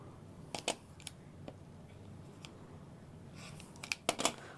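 Scissors snip through fabric pieces being cut for a Scottie Convertible Bag, a few quiet, sharp clicks spread sparsely over a hushed room with no talking.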